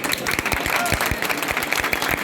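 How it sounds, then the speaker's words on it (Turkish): Applause for actor Aydemir Akbaş at the Kolpaçino 4 premiere, dense and steady clapping from a crowd with faint voices mixed in, continuous throughout. "Alkışlarımız Aydemir abiye lütfen."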